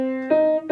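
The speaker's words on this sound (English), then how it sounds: "There's your minor third." A minor third interval played as the opening two notes of O Canada: a low sustained note followed by a higher one, then a brief repeated attack, clean tones with no voices.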